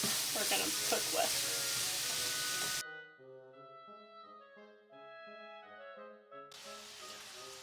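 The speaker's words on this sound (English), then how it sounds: "our beef is just about brown" Ground beef browning in a pan for lasagna sizzles and crackles loudly with stirring scrapes, then drops out abruptly for a few seconds before the frying hiss returns near the end.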